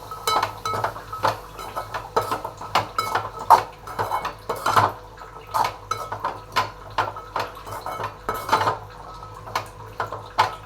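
A spoon stirs boiled green peas into masala in a metal pot for a green pea curry, giving a steady run of close metallic clinks and scrapes at an uneven rhythm, with no talking.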